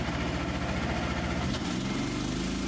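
A Frontier OS27 sawmill engine runs steadily at throttle with a loud, even, close drone, and its pitch drops and settles partway through.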